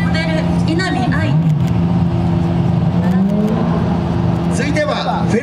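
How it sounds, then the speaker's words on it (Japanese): Lamborghini Aventador supercar idling and revving at a supercar runway event outside Tokyo Big Sight, a loud continuous engine drone under a presenter talking over a PA. "これがですね、まあ、キングオブスーパーカー、ザ・スーパーカーと言われるランボルギーニアベンタドールです。"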